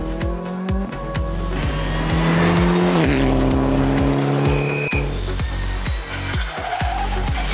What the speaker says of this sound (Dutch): Bas van Kampendijk samen met Gert Kamphuis rijdt deze rally met een primeur, namelijk de Ford Fiesta R5